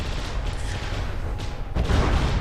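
Heavy cannon salvo from cram cannons in the From the Depths airship game, a dense rumbling barrage of overlapping booms that swells louder near the end, with no voices.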